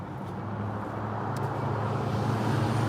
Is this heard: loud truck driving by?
yes